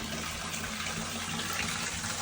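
Shower water running steadily in an ensuite bathroom after pipe work, a continuous broadband hiss and splash held at an even level throughout, with no voices.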